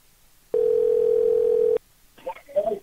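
A landline telephone dial tone after the caller hangs up: one steady, loud, continuous tone lasting a little over a second, then stopping abruptly, followed by a person talking briefly.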